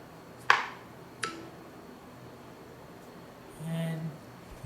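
An iPhone 13 Pro Max chimes with a short notification ping as a leather wallet accessory snaps onto it, following a couple of sharp taps and some rustle of packaging in a quiet room.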